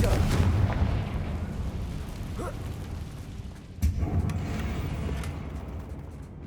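Confringo blasting spell detonating in the video game Hogwarts Legacy, aimed at a damaged bridge: a deep rumbling boom that decays, then a second sharp blast near the middle, heavy and loud.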